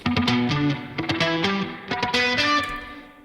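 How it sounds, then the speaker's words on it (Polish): Softube spring reverb plugin applied to a lower-register synth or instrument part in a music production track, a steady melodic line with wet, metallic reverberant tail, loud and continuous throughout. "Ustawiłem ten e, pogłos sprężynowy od Softube'a."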